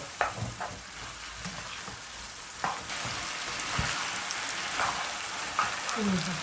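Spaghetti with naem and fresh shrimp is stir-fried with sauce in a pan, making a continuous close sizzle broken by scraping and stirring clatters throughout.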